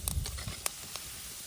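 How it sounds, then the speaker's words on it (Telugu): Chicken keema balls deep-frying in hot oil give a faint, steady sizzling hiss with a few small pops near the start, close by and brief. "ఇది మాత్రం బాగా వేయించుకోవాలి ఆయిల్లోనే"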